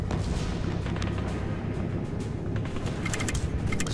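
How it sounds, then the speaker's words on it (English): Dense, continuous battle gunfire from the top-down tactical game GUNS UP, a steady loud barrage of shots with no talk over it. "People are lost in gunfire."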